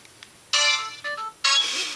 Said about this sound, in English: Here is ringtone number 17.